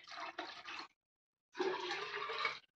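Water poured from a watering can onto flowers and vegetables in a home garden, a steady broad splashing rush in two bursts separated by a short silence, fairly close and alone with no talk.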